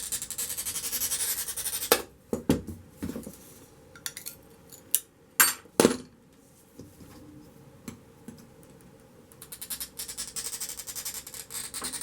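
Stained glass being scored and snapped off a large sheet, with sharp cracks and clicks scattered over a faint scraping bed, a few loud snaps clustered mid-way and a rough scoring hiss near the end.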